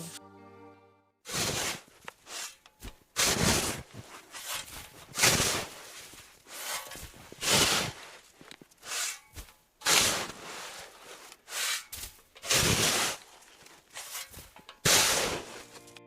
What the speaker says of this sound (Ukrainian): коли прибирають лопатою сніг